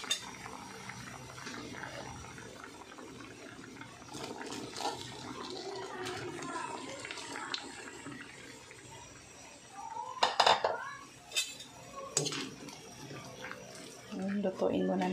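Papaya is added to a pot of simmering coconut milk and stirred, with faint spoon-against-pot scrapes and small clinks that grow sharper near the end, under light background noise.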